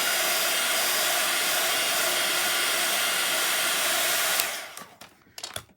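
A steady, loud blowing hiss of a heat gun heating craft foam runs for several seconds, then cuts off, followed by a few faint handling clicks.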